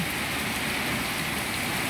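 Rain falls steadily beside a house, a dense, even hiss that holds at one level throughout, with no voices.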